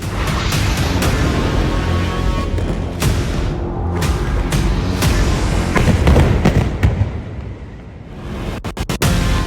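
Explosions from an Israeli airstrike by fighter jets on Houthi targets in Yemen roll in as a continuous, loud, dense roar of booms and rumbling, with a few sharp cracks toward the end.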